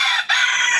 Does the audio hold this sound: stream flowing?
no